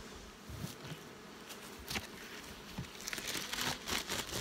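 Honeybees buzz around a small backyard hive in a continuous, moderately close drone with scattered sharp rustles and knocks of hive handling.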